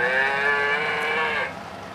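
A cow gives one long, steady moo close by, holding for about a second and a half before trailing off, with nothing else heard.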